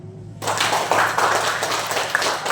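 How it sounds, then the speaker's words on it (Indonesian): Students in an Indonesian classroom break into applause, a dense burst of clapping that starts abruptly and carries on evenly for a couple of seconds. "Ada beri tepuk tangan"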